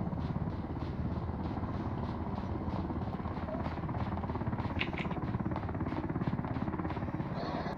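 Steady, loud rotor thumping of a helicopter in the battle royale game Ring of Elysium, a continuous rapid chop filling the whole stretch with faint extra game sounds.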